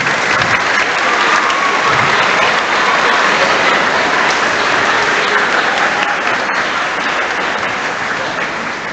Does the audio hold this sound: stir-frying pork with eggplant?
no